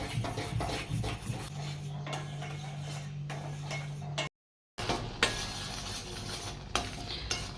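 A spoon stirs milk mixed with milk powder in a pan for kalakand, giving soft scraping and light metallic clinks in a steady rhythm, close by, with a brief dropout midway.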